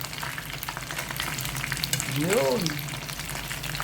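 Large tilapia frying in hot oil give a steady, close crackling sizzle, and a voice briefly speaks over it near the middle.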